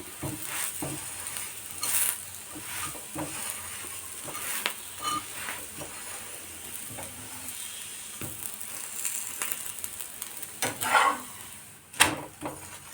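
Talipettu flatbread with onions cooking on a hot pan, giving a steady low sizzle with occasional soft stirring and utensil taps on the pan, close by and with no talking.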